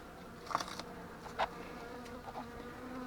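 Buckfast honey bees at an opened spring hive buzz steadily and close, with a few louder flybys swelling past, no voices.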